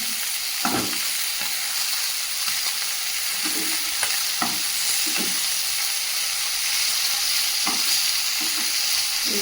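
Bata fish frying in a pan give a loud, continuous sizzle and hiss, with occasional stirring scrapes and spatter pops, close and steady with no speech.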